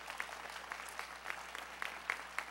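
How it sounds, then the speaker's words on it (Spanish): Applause at a Peruvian national contest award ceremony with President Ollanta Humala, faint and distant, a steady patter of clapping with scattered sharper claps throughout. "Fuertes aplausos."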